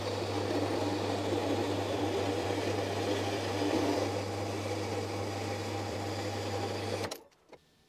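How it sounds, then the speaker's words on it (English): A horizontal bandsaw cutting through metal, with a steady droning hum and a continuous grinding hiss that runs evenly, then abruptly stops near the end. "So my solution is to use my horizontal bandsaw."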